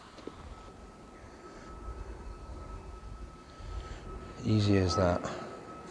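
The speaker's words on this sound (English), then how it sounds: "as a plane goes over my head" An airplane passes overhead outdoors during a car-detailing job, a broad low rumble that builds gradually and peaks near the end while someone speaks briefly.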